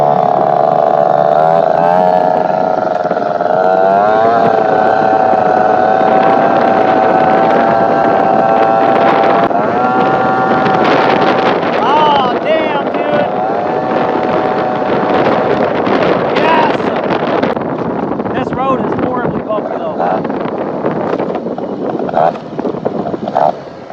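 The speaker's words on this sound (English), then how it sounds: "I'm only at quarter throttle and this thing is wicked." A 70cc Polini Corsa engine on a Vento Triton R4 motorbike revs and pulls while riding, buzzing loudly and rising in pitch in bursts, heavy wind noise over the microphone and exclamations from the rider.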